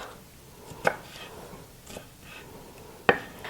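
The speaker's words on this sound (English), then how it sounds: "And then just cut those into dices." A knife dices a vegetable on a cutting board with a few sparse, sharp knocks, close and fairly quiet, separated by pauses.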